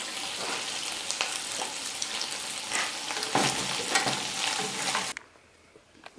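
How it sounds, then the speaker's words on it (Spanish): Bacon cooking in a pan sizzles loudly and steadily with bursts of crackle and stirring, then cuts abruptly to near quiet just before the end. "el tocino ya se está cociendo"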